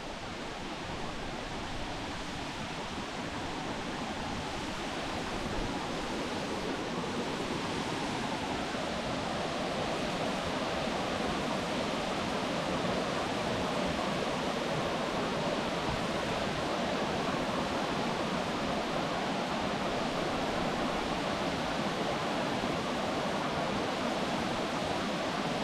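Thunder Creek Falls, a waterfall on the road to Haast, pours in a loud, unbroken roar that fills the whole stretch with steady hissing rush and no pauses.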